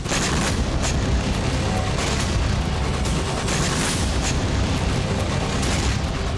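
Explosions from drone and ballistic missile strikes on Kyiv, a dense, continuous roar of booming blasts and crackling fire filling the whole stretch loudly, with sharp bursts standing out, no talk.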